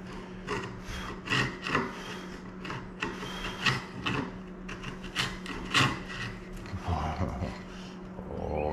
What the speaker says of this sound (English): once again, we'll grab our chisel.